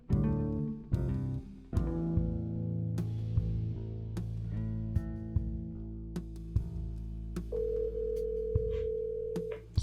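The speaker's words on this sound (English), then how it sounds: "So our phone takes so long to ring." A telephone rings repeatedly on an outgoing call, the tones fairly loud and close, with a steady held tone toward the end and no talk over it.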